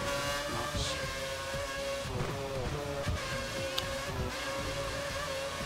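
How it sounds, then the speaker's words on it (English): A Formula One race car with a broken engine in the F1 2013 racing game at Spa, Belgium, on a damp track, droning steadily and loudly throughout with a shifting, rising and falling engine pitch and faint tyre noise. "Flying with a broken engine."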